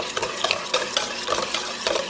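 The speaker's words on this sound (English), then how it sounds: "we're going to want to whisk it until smooth" Creamsickle cheesecake pie filling being whisked until smooth, quick repeated rhythmic strokes of a whisk against a bowl, close and fairly clear, with no talking.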